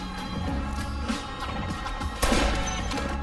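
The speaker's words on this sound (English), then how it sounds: "Was that a gunshot?" Gunfire cracks in a brief burst amid a busy, mixed soundtrack, with one louder shot standing out near the end.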